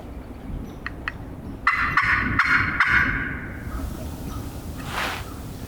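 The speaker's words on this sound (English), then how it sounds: "I just got them to gobble." Wild turkeys gobble near a cut cornfield by a road, a burst of rattling gobbles at mid-distance after a couple of faint clicks, then the flock falls quieter.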